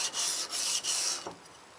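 Light sharpening strokes of a blade on an oil stone: a few soft, dry rubbing passes in quick succession, close and steady, with no talking.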